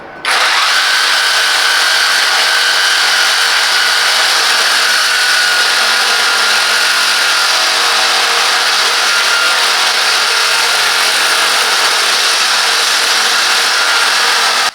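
A Parkside Performance 20V cordless saber saw with a brushless motor runs continuously and loudly up close, a steady high buzzing drone starting abruptly and holding without pause.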